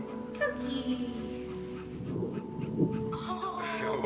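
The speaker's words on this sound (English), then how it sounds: "That is a dog." A dog in the video game That Dragon, Cancer gives soft whimpering and yipping sounds, close and fairly quiet, over a gentle tonal music bed with no talking.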